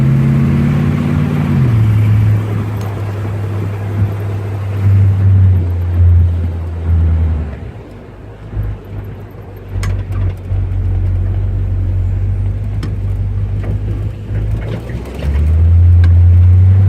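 A car engine idles with a leaking exhaust manifold and header, giving a loud, steady low drone that dips and swells slightly in pitch, with faint ticking and no talking.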